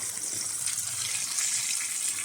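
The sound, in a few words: water poured into pot of tomato sauce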